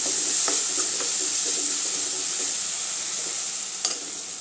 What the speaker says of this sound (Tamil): தக்காளி நல்லா வதங்கிடுச்சுங்க அளவுக்கு வதங்கணுங்க